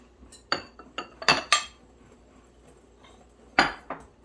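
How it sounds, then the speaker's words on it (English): Sugar, baking powder and salt being mixed in a bowl, a utensil clinking against the bowl in several quick, uneven strikes with quiet gaps between. "I'm going to go ahead and mix this up"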